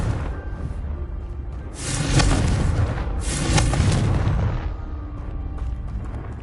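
A Confringo spell fires in Hogwarts Legacy, two broad roaring blasts with a whooshing rush, loud and full over a steady game-ambience bed, with no talking.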